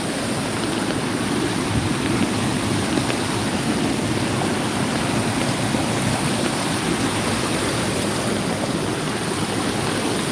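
Flash flood water in central Kentucky rushing in a loud, continuous broadband roar like a strong stream or waterfall, close and steady with no speech.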